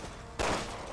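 A single sharp gunshot from Resident Evil 6 cracks out abruptly after a quiet stretch, followed by a brief ringing tail over low game ambience.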